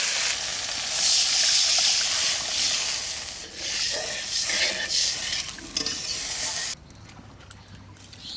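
Water poured into fried spices in a pan for a red curry of singhi catfish bursts into a loud, close hissing sizzle that rises, wavers, then cuts off abruptly, followed by a quieter low simmer.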